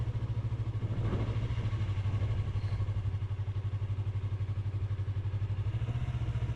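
Yamaha YZF-R3 motorcycle ridden at low speed, a steady low engine drone with faint wind and road noise, no talking.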